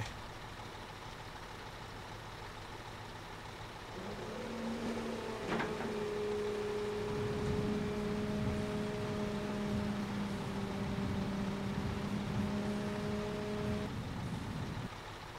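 Game truck from Construction Simulator 2015 rolling forward with a steady engine drone while dumping its load, a sharp clank partway through and a rumbling, rattling spill that continues until the engine cuts back.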